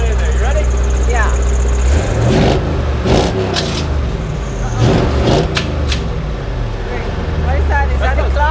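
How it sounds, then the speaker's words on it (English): A cold Corvette C5 Z06 engine idles and revs with a deep exhaust rumble during frame-straightening work. Several rising and falling revs swell under loud nearby talk. "That beautiful exhaust sound before it warms up too much."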